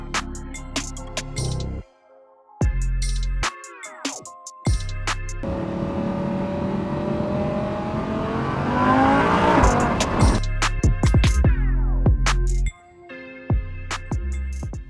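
A 2021 BMW G80 M3 on a test drive, its engine revving hard through repeated rising bursts broken by brief gaps, then a long stretch of loud tire squeal and skidding, all close and with no talking.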